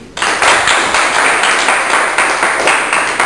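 A crowd at a women's boxing bout gives dense, steady applause, loud and continuous for several seconds with no talk over it.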